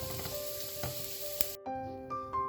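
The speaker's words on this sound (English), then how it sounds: "After 2 minutes of sauteing on a medium flame, I'm going to turn off the stove" Banana stuffing sautéing in a pan over a medium flame, a steady close sizzle with a few sharp spatula taps and scrapes, briefly cutting out before the frying hiss resumes.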